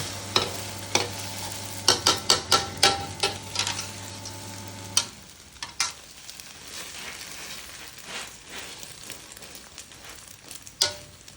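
An egg frying in oil in a pan and being flipped: a run of crisp spatula clicks and scrapes over a bright sizzle, then a quieter, steady crackle with occasional knocks.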